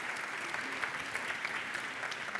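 Conference audience breaks into steady, dense applause after a speaker is introduced, a sustained wash of clapping at moderate level with no one talking over it.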